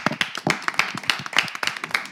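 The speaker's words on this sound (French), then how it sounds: "on va s'applaudir nous-mêmes quand même" Brisk clapping from a small group, steady and close, with no voices.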